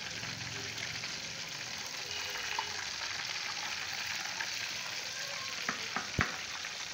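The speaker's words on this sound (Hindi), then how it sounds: "अभी थोड़ा सा इसको हम 5 से 10 मिनट और फ्राई करते हैं।" Spicy chira fish fries in a pan with a constant close hiss and crackle, with a few light taps near the end.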